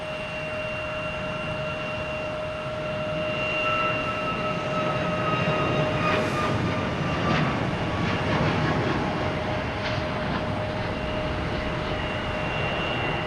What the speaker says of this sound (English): we now have Southwest heading to Midway. 737, MAX 8.